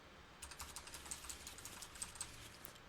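Computer keyboard keys being tapped during a board game played in Tabletop Simulator, a quick run of faint, light clicks in an otherwise quiet room.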